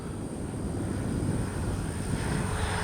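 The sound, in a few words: Freewing 70mm Yak 130 RC jet taking off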